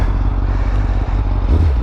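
A 2017 Honda CBR1000 SP2 motorcycle with a full Akrapovic exhaust and dB killer fitted, idling with a steady, throaty low rumble close by and no talk.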